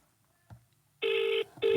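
A telephone call's ringing tone plays through a handset held up to a microphone, with two loud, steady electronic bursts after a brief click, close and without talk.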